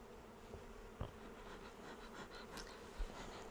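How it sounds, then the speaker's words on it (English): Honey bees buzz around a hive in a steady, quiet drone with no speech, broken by a couple of brief louder knocks. "One of our beekeepers is worried that their neighbours will complain about the noise from the bees."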